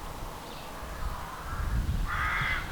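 Rooks caw repeatedly at a busy early-April rookery near Bodmin in Cornwall, harsh calls rising over steady background bustle, growing louder toward the end.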